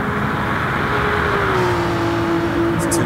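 A 6-litre V12 race car engine of 600 hp on the Nürburgring 24h course, a loud sustained droning roar heard on board, its pitch sliding slowly downward and then holding steady.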